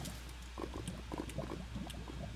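Water flowing in the Minecraft video game. A soft bubbling, gurgling stream continues steadily and quietly throughout.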